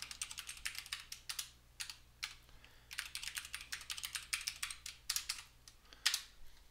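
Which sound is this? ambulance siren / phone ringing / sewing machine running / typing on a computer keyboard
typing on a computer keyboard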